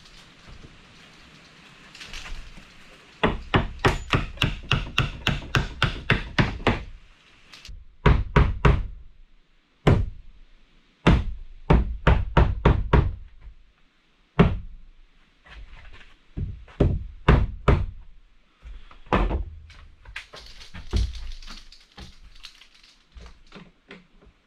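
A hammer drives nails into 1x boards fixed across the doorway of an off-grid cabin, in bursts of fast, evenly spaced, loud close blows separated by short pauses, with lighter taps between the runs.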